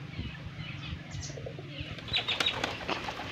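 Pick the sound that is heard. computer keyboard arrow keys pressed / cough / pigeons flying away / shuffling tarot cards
pigeons flying away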